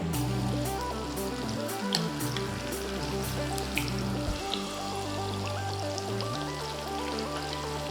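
Chicken pieces for garlic chicken frying in hot oil in a batch, a steady dense sizzle with small pops running continuously and close up, no voices.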